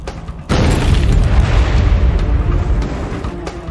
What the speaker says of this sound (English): The tanker is filled with hexane, a highly volatile chemical that erupts in a massive explosion.